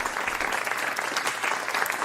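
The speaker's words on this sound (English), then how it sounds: "Round of applause." Steady, dense clapping from a crowd fills the whole moment, loud and continuous without a break.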